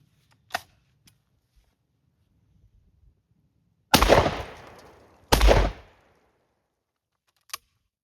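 A CZ Redhead Deluxe over-under shotgun fires at clay pigeons outdoors, two sharp loud reports about a second and a half apart with short echoing tails, among faint clicks from the action.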